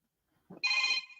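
A telephone rings once with a bright electronic ringtone for an incoming call, brief and fairly close, with faint murmur just before it.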